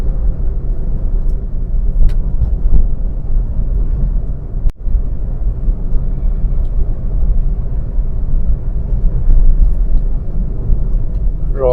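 Steady road and engine rumble from inside a car holding about 80 km/h through a sharp curve, loud and continuous with a brief thump partway through.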